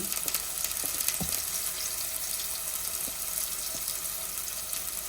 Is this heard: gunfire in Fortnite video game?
no